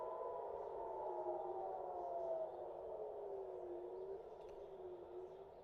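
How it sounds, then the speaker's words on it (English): Air raid sirens wail in a steady, distant rising-and-falling tone, sustained alone throughout with no talk. "3 times now, it seems like we've had these sirens go off and nothing happens"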